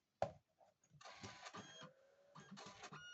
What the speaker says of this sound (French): Et là, ça commence l'impression.